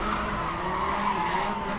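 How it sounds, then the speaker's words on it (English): A car in the racing video game Need for Speed: Hot Pursuit, with a loud, continuous engine whine and tire skid sweeping in pitch over about two seconds. "The engine definitely made sounds there"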